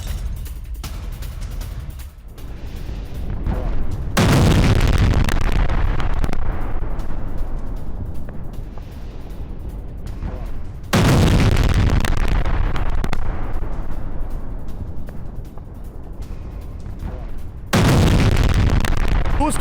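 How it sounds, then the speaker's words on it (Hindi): Loud explosions from a Russian ballistic missile strike on Ukrainian cities, three heavy booms several seconds apart, each a sudden roaring burst that rumbles and slowly fades. "खार्किव से लेकर ओडेसा तक रूस का बैलिस्टिक मिसाइल हमला।"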